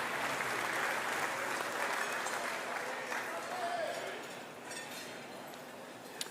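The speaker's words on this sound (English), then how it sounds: "Let's bring them up with applause." Audience applause at a basketball awards night as two players are called to the stage, a fairly faint, even patter of clapping from a crowd that fades slightly in the last seconds.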